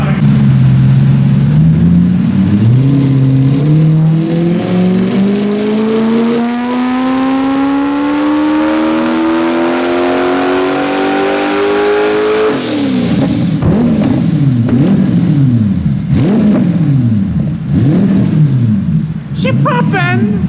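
A turbocharged 1UZ V8 engine in a 200SX revs hard on a dyno and climbs steadily in pitch for several seconds, then cycles through repeated loud rising and falling revs, close and continuous.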